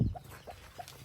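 Fighting-breed hens with their chicks clucking nearby, a low burst at the start followed by a few short, evenly spaced calls over a faint background.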